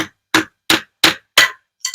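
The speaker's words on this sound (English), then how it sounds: "If you had to hammer through this and make a nice clean, try to make a clean cut" A knife blade is struck with a wooden baton to drive it through a wooden dowel, giving five sharp, evenly spaced knocks, close and alone, followed by a lighter clinking hit.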